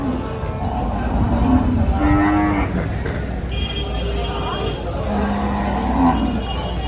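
Several low, drawn-out cow moos sound close by at the Dhule cattle market, one after another, over a steady background hum with occasional faint voices.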